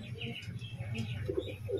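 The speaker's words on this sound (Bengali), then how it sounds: "নর পায়রার সাথে এই মাদি পায়রা জোড়া রয়েছে" A male and female pigeon pair coo softly and close by, low murmuring calls rising now and then over faint background chirps, brief and quiet.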